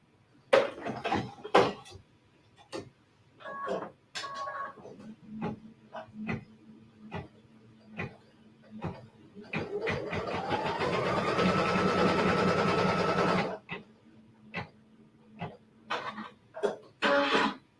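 A sewing machine stitches a seam on a log cabin quilt block, its motor whirring steadily for a few seconds midway, framed by scattered clicks, taps and handling noises.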